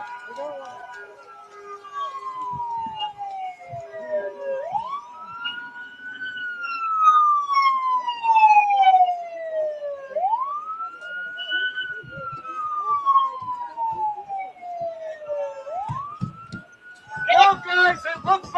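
Police car siren at an ICE protest outside Delaney Hall in New Jersey, wailing in three long falling-and-rising sweeps, fairly close and loud, with a brief burst of higher whooping at the end over background crowd noise and voices.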